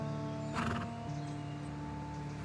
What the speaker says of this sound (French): T'as un très beau cheval.